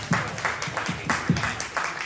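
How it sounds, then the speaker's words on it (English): Audience at a tech conference in Miami gives a short round of applause, a brief burst of clapping with rhythmic hand claps fading quickly. "This is a big round of applause for NFT BZL."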